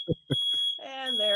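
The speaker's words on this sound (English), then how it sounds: "there go our smoke alarms again" Home smoke alarms beeping with a steady high tone, sounding under brief talk and then continuing alone.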